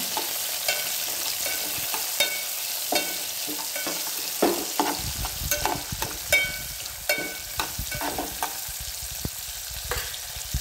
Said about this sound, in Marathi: आता कांदा लाल करत ठेवायचा.